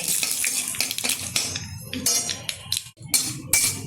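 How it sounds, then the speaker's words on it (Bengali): Bay leaf, a dried red chilli torn in half and nigella seeds tempering in a wok, stirred with repeated metal scrapes and clinks over a steady close sizzle, with no talking. "হালকা করে একটু নেড়ে চেড়ে নেব"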